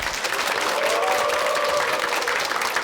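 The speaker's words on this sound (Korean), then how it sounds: "큰 박수로 맞이해 주십시오." Studio audience at a Korean TV lecture broadcast gives steady, dense applause welcoming a guest speaker, a continuous wash of clapping with faint tonal background music underneath.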